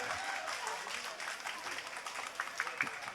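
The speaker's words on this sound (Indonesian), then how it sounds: "tepuk tangan" Applause from an audience at a village music gathering in Java, a fairly quiet spread of clapping with crowd murmur and voices mixed in, a few sharper claps standing out toward the end.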